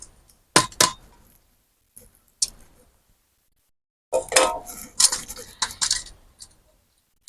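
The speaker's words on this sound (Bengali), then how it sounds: "এবার এই থালার মধ্যে আমি ছানাটা ঢেলে নেব।" Soft washed chhena is tipped into a metal plate for a Bengali chhena pora sweet, giving a few sharp clinks and scrapes, then a cluster of close clattering metallic knocks after a short pause.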